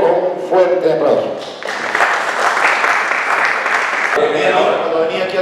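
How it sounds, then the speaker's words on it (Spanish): An audience in Lima greets a presenter at a talk with loud, dense, sustained applause that swells after a brief spoken introduction and carries on to the end. "a quien recibamos por favor con un fuerte aplauso"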